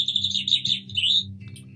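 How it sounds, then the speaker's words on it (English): Birdsong outdoors: a bright, warbling bird call repeated in quick chirps over a low steady hum, fairly close and clear for under two seconds. "Birdsong."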